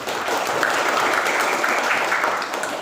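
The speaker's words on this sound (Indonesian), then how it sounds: "coba kasih tepuk tangan dulu." A class of students claps together in a classroom, a steady close wash of applause lasting nearly three seconds.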